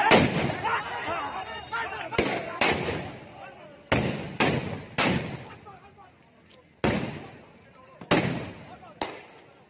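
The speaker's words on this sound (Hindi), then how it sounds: "उत्तर प्रदेश में किस तरीके से गोलियां चलने की आवाज आ रही है, बम बरसाए जा रहे हैं" Gunfire and bomb blasts during a violent street clash in Uttar Pradesh, India: repeated sharp, loud bangs at irregular intervals, some close together, each trailing off, with shouting voices and crowd noise between them.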